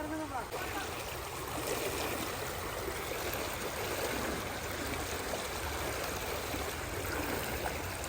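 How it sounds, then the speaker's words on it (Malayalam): Fast-flowing stream water rushing in a steady broadband wash, fairly close and continuous, with faint voices in the background. "നല്ല ഒഴുക്കുണ്ട്. വെള്ളം നോക്കിയതേ"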